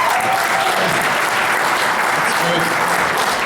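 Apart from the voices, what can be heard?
audience applause at a comedy show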